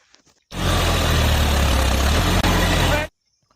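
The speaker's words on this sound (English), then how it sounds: "Wow, this is a John Deere tractor." A John Deere tractor engine runs loud and steady at close range for about two and a half seconds, with a brief dip near the end before cutting off sharply into quiet.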